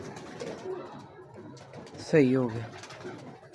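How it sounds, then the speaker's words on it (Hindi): A dub pigeon gives a single close, low coo, brief and prominent, while people talk softly around it. "ये डब वाले कबूतर हैं।"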